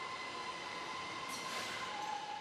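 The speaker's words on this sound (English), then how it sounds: "They have their own train." Campus train on Huawei's European-style Shenzhen campus, heard as a soft steady rolling rumble with a faint high wheel squeal and a brief whoosh partway through.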